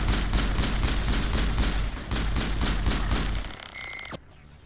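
Mass Effect pistol fired in fast repeated shots, a loud, close, steady rhythm of punchy cracks over a low rumble that fades out, followed by a brief electronic tone.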